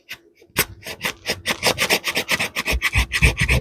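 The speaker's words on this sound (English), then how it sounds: "Yeah, we are getting shavings," A Swiss Tech knife blade scrapes shavings off wood in quick, rhythmic rasping strokes, close and fairly loud, repeating steadily after a brief quiet start.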